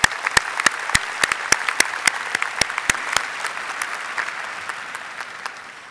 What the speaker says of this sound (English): Another round of applause for Dr. Sha'Kurra.